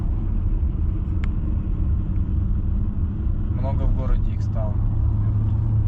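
Nissan Note E13 e-Power hatchback driving through a city, a steady low road and motor rumble inside the cabin, with someone talking over it.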